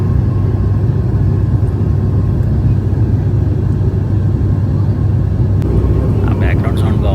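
Inside the cabin of an IndiGo passenger jet cruising above clouds on a Vijayawada to Kadapa flight, a loud, steady low engine roar and airflow drone fills the space, with a few faint clicks near the end.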